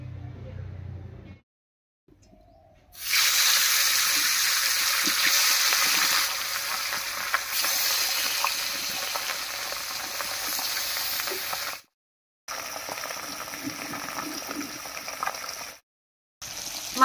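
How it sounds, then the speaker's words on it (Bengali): Pabda fish fry in mustard oil in a wok, a loud steady hiss and crackle of sizzling oil that starts after a quiet moment and runs on with two brief silent gaps. "এবারে কড়াইতে সর্ষের তেল দিয়ে মাছগুলো ভেজে নেব।"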